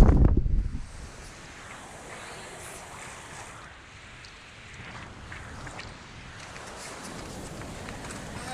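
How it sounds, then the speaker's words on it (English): Steady wind and water rush around a solo sailboat at sea, a loud bump at the very start, then a constant broad hiss of wind and waves with slight swells in strength. "There hasn't been a ton of wind except for right now."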